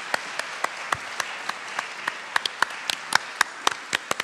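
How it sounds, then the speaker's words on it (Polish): A small concert audience claps after a marimba performance. Individual claps are sparse and distinct at first, then grow quicker and more frequent, sounding moderately close in a room. "wielkie brawa dla pani Julianny."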